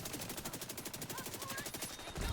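Rapid automatic gunfire in The Division 2, a fast regular burst of evenly spaced shots from an SMG that runs almost without pause, loud and close.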